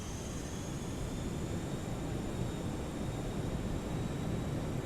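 Boeing 737-200 jet engines held at takeoff power in X-Plane 11, a steady, dense roar with a thin high whine running over it, constant and unbroken throughout.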